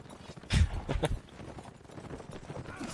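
Hooves clop from a lame horse being ridden in a multiplayer video game match, a few loud hits near the start, then fainter steady footfalls under game noise.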